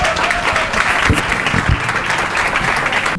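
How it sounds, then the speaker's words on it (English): An audience at an evening awards reception applauds a guest speaker being called up, sustained loud clapping from many hands that fills the whole stretch, with a few sharper claps standing out. "Please applaud him"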